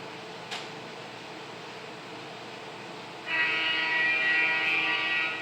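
A steady rumbling drone of a passing train, growing louder partway through as a metallic screech joins in, heard from a moderate distance.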